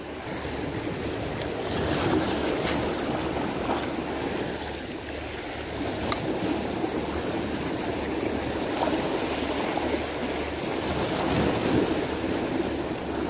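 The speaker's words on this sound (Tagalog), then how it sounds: "Hindi naman gano'ng malakas ang alon." Ocean waves roll in steadily on the shore at Abu Dhabi while someone fishes from the beach, with constant wind buffeting the microphone and no voices.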